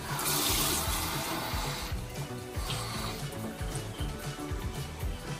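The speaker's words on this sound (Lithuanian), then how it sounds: "dabar mes čia įpilsim vandens, kad grinai apsisemtų vienas kiaušinis" Water gushes and splashes steadily into a pot of eggs, loud at first and then settling into a continuous pour, with faint clinking underneath.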